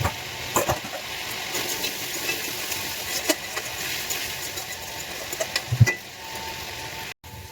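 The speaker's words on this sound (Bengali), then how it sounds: "যেমন আলু ভাজে ওইভাবে আলু ভেজে নেবো প্রথমে" Salted potatoes fry in a pan with a soft, steady sizzle and occasional stirring clicks and scrapes, close and fairly quiet, with no talking.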